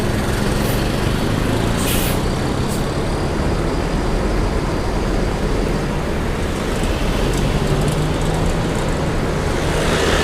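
An ANS Arjuna bus on a Mercedes-Benz OH 1626 chassis with air suspension and Morodadi Prima bodywork, heard as a loud, steady roar of road and engine noise with a few brief hissing bursts near the start.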